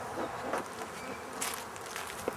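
Honey bees buzz around their hives in a continuous, fairly faint hum, with a few individual bees flying closer and briefly louder over the steady drone.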